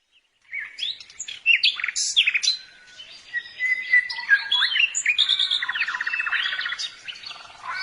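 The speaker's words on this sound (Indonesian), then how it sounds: "Tuh, ini burung jog-jog. Masih orok." A young jog-jog bird (a bulbul kept as a village songbird) gives a lively, close run of bright chirps, warbles and rising whistles, continuous and clear in a quiet rural setting.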